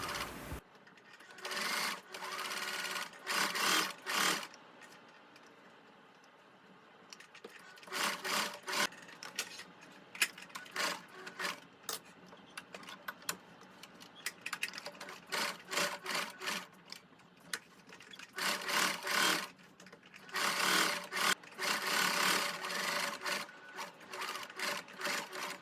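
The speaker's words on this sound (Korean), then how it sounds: "박음질을 할 때 가장자리를 따라서 삥 돌려서 탑 스티치로 마무리를 해줍니다." A sewing machine top-stitching around the edge of a shirt collar on a dress: close bursts of fast, rattling stitching separated by short pauses, with no talking.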